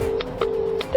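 Telephone keypad dialing in a home, with a few short tone bursts spaced at regular intervals over a steady background tone, fairly close and clear.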